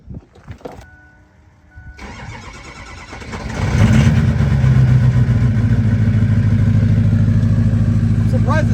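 A lifted truck with a 6.0 Power Stroke diesel gives a short whir and cranks after a few clicks, then fires up and rumbles loudly at a close, steady idle.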